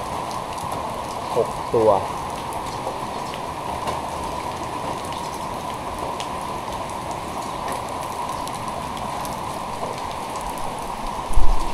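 Steady rain patters on surfaces during an outing to catch snakehead fish, a dense, even hiss that runs throughout, with someone talking briefly near the start and a louder thump at the end.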